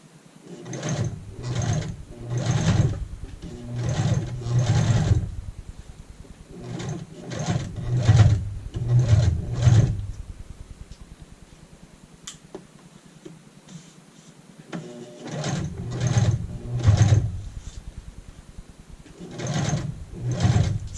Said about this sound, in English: We're still doing our edge stitch.